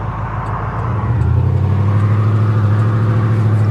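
Ford F-150 pickup truck engine idling roughly, a steady low rumble close by with a slight uneven pulse, and no talking over it.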